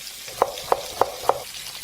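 Boiled potato slices fry in a pan under a quiet background sizzle, with four evenly spaced tapping clicks close by, no talking.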